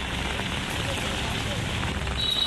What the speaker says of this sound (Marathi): नांदेडमध्ये जोरदार पावसाची हजेरी